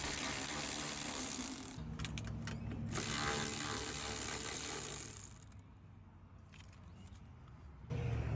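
Ratchet clicks as bolts holding the headlight housing of a Toyota Sequoia are backed out, close and steady with short bursts of mechanical ratcheting and no voice.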